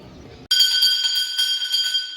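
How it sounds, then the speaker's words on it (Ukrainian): A peace bell is struck once at a remembrance ceremony, ringing out bright and loud, its clear tone sustaining and slowly fading. "У цей день в центральних установах урочисто звучить дзвін миру"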